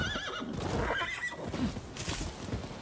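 A horse in the video game Rise of the Ronin lets out a clear, loud whinny followed by the clip-clop of hooves, all set against a steady bed of game ambience.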